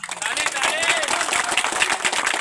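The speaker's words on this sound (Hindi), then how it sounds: "अगर हम गलत कह रहे हैं तो आप लोग बोलिएगा, अगर सही कह रहे हो तो ताली बजाइएगा" Audience at a Baba Saheb birthday gathering clapping in a brisk, scattered burst of applause for a few seconds, filling the room at moderate loudness.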